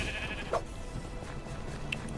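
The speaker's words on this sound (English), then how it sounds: "It's a sheep." A sheep in the video game Minecraft Dungeons gives a short bleat, then a second faint one, over a steady bed of game ambience.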